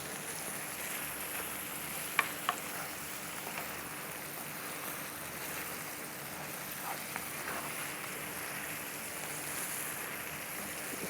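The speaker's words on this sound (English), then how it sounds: "But then we still need this to be fried" Stir-fry pasta frying in a pan, a steady soft sizzle like light rain that runs evenly throughout, fairly quiet, with a couple of faint clicks or taps.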